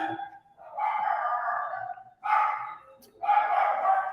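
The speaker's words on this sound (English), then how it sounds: "my dog's going crazy" A dog barks in long, harsh bursts at someone ringing the doorbell, three drawn-out outbursts separated by brief pauses, close and loud.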